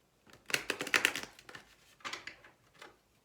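Tarot cards being shuffled by hand in two bursts of crisp riffling and flicking, close and fairly quiet, with a brief pause between them.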